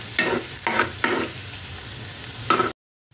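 Garlic sizzles in a frying pan as it is stirred, giving a few close scraping, crackling bursts over a steady frying hiss before the sound cuts off abruptly.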